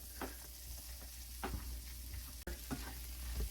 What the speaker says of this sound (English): We're going to saute these for just a few minutes until everything's good and soft and tender